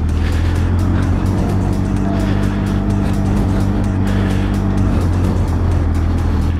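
A dirt bike engine drones steadily at low revs in first gear at constant speed off-road, a constant loud rumble with no shifting, close up throughout.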